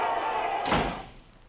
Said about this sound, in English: he closes the door